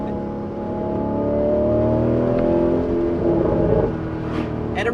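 Revving hard in sport mode, the Alfa Romeo 8C Spider's engine rises in a sweeping climb, swells loud and holds, then settles, captured from the cabin with no speech.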